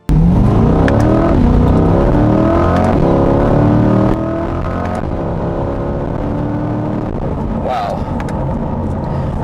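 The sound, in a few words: sports car accelerating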